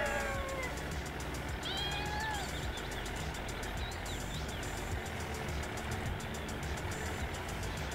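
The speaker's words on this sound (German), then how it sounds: "die Katze macht nur Geräusche" A cat in the farming game Professional Farming Cattle and Crops meows several times in the first few seconds, clear rising cries over a steady engine drone that continues alone afterward.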